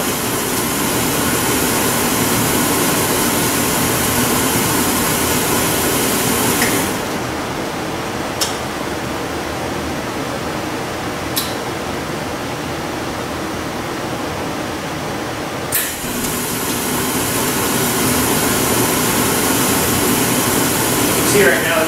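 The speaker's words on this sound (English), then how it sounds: "Okay, the furnace's blower is kicked on." A homemade waste oil furnace's blower fan runs in a workshop with a steady, loud broadband whoosh. It dips quieter for a stretch midway with a few sharp clicks, then returns to full strength.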